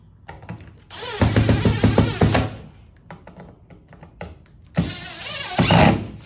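A power driver runs screws into the wall of a vintage camper under rebuild, with two loud whirring bursts of a couple of seconds each and faint handling clicks and taps in between.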